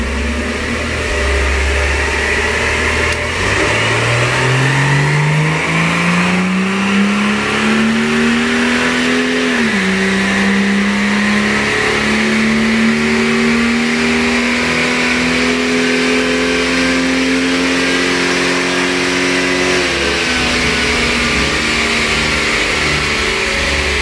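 A Jaguar XJ6 with a 4.2 engine accelerates on a second test run, its steady engine note climbing in pitch, dropping briefly at a gear change, then rising again, loud and continuous.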